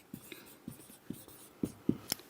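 Marker or chalk writing an example on a board, a series of short, sharp taps and scratchy strokes in an irregular rhythm, close and moderately quiet, with no talk.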